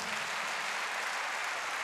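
A church congregation claps together in a dense, continuous round of applause, steady and even throughout with no pauses.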